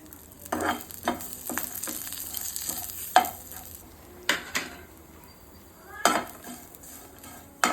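Garlic and turmeric roasting in a pan over a low flame for a North Karnataka style peanut chutney powder, with a quiet sizzle beneath intermittent sharp scrapes and clinks of a utensil against the pan.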